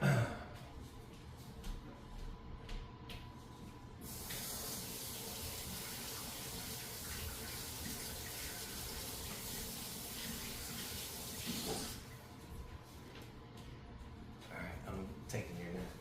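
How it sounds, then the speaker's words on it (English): Tap water runs steadily into a sink while hands are washed, a broad continuous rush lasting several seconds between quieter handling noises, with no talking. "So I'll go wash my hands here."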